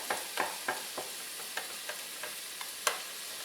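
A spoon stirs a hot, sizzling bowl of cheese steak wrap filling, giving about a dozen quick scraping, crackling strokes in an uneven rhythm, close and fairly quiet, with no talking.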